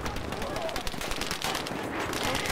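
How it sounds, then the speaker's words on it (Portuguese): Rapid gunfire from a Battlefield V multiplayer match, including sniper rifle shots among dense machine-gun bursts, keeps up steadily and fairly loud as battle noise under game sounds and voices. "Tô ouvindo barulho de sniper por aqui,"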